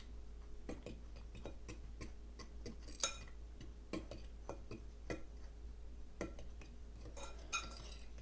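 A fork whisks dry pancake ingredients, flour and salt among them, in a bowl, giving a steady run of light, quick ticking clinks against the sides with a few sharper taps, close and alone.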